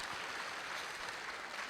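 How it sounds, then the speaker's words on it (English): Conference audience at a DrupalCon opening session in Prague applauding, a steady wash of clapping that stays fairly faint and even throughout with no voices on top. "Everyone, give a round of applause for the people that are new here today."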